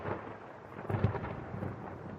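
Thunder and lightning effect used as a podcast timer cue: a low, continuous rumble with a brief louder crack near the middle, sounding alone without talk.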